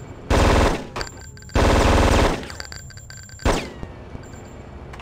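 Automatic machine-gun fire in the PC video game Hitman: Codename 47, with two long loud sustained bursts followed by a single short shot and then fading room tone.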